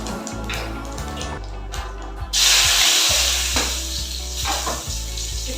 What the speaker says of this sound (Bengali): এই তেলের মধ্যে আমি খানিকটা গোটা জিরে ফোড়ন দেব